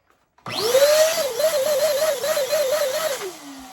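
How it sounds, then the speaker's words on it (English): A small electric pump runs to inflate a clear balloon, starting abruptly with a rising whine that settles into a steady wavering drone for about three seconds before winding down, loud and close. "now I'm gonna go back again with my electric pump and blow it up again"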